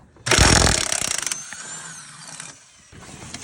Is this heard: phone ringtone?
no